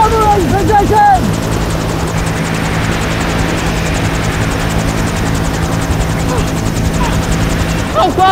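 A helicopter holds a hover over a mountainside in poor weather, its loud steady rotor drone and whine dominating throughout while voices speak over it.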